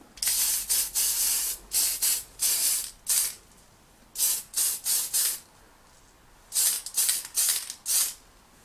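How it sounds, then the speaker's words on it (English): Clear lacquer is sprayed from an aerosol can onto a plastic toy piece in a series of short, close hissing bursts separated by brief pauses, with no voices. "I've given it a quick spray of a clear lacquer"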